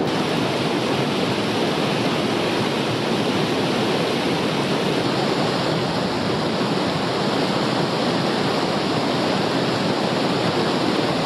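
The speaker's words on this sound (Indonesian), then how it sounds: "saya sampai juga di titik air terjun Depa" Depa waterfall in Gowa, South Sulawesi, roars as a loud, unbroken wall of rushing water with no let-up or voices.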